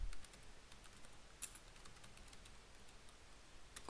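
Keystrokes on a computer keyboard as a folder name is entered while setting up the PC game GTA San Andreas, a faint, quiet run of light taps with one sharper click partway through.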